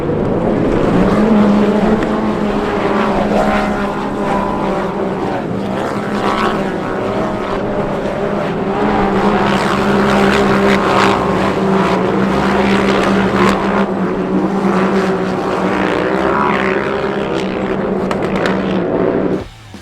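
Off-road race trucks roar together after a green-flag start, a loud, continuous engine drone with shifting pitch that holds throughout and cuts off at the very end.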